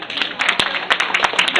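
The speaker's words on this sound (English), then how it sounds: "let's give them a round of applause" A brief burst of audience applause at a symposium panel, dense clapping heard up close over a short stretch.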